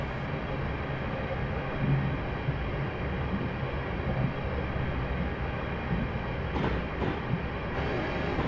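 A Class 350 electric multiple unit runs in Train Simulator Classic on the Crewe to London Euston route, producing a steady, moderate rumble and hum of motors and rolling wheels, with a few faint clicks near the end.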